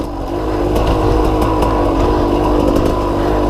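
A 2015 KTM 200 XCW two-stroke dirt bike engine runs steadily at a loud, close idle, with a continuous buzzing drone and no talking.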